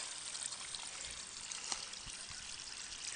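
Water pours steadily onto thunder egg rocks in a constant hissing splash, close and moderately loud, with a few faint knocks underneath.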